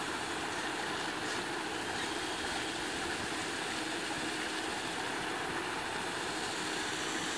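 A machine engine that runs on salt water drones steadily and loudly without a break, a dense broadband rumble close by with no speech.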